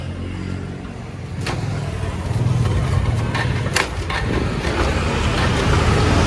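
A motorbike engine is started and revved hard near a beach road, a loud, continuous rising roar with sharp bursts over a noisy background.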